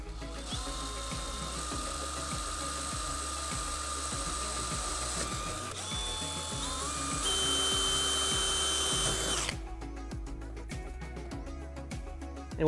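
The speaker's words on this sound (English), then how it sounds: "The template in place, now we can drill out the holes." Power drill boring holes through a template into the rear bumper of a 2015-2020 Ford Mustang while fitting an aluminum rear splitter, a steady close whirring and grinding that runs continuously and shifts pitch partway through, with no talk.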